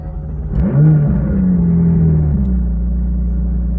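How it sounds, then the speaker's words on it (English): A McLaren 570S engine with an aftermarket Fabspeed exhaust cranks and fires up with a loud, throaty rev, then settles into a steady, rumbling idle. "let's listen to this wonderful Fab Speed Exhaust come to life"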